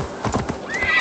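A horse in Assassin's Creed Valhalla clip-clops with a few close hoof beats and then lets out a loud, rising whinny, with no talking.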